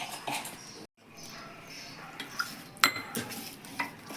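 Millet flour dough with cumin being mixed by hand in a bowl, with soft scraping and clinking of utensils against a pot, a few sharper knocks, close and steady.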